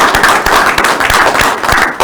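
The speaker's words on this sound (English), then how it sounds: "So give yourselves a round of applause." An auction school class bursts into loud, fast applause, dense overlapping claps close by that keep going without a break for about two seconds, with no voices.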